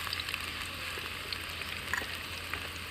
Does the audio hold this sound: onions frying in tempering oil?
yes